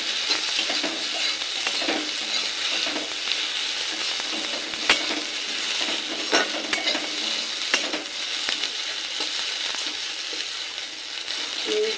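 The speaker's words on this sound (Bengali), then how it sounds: "এই তেলেই আমি সোয়াবিনটা ভেজে নেব" Soybean chunks fry in a small amount of oil in a wok, making a steady close hiss and sizzle with occasional metallic clinks and stirring knocks throughout, and no one speaking.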